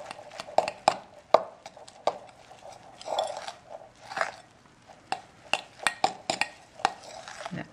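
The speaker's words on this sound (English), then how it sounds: "I'm just going to mix this together with a fork and get that well and truly mixed" A fork mixes potato pancake batter in a bowl, making irregular, close clinks and scrapes against the sides with soft wet stirring between the taps.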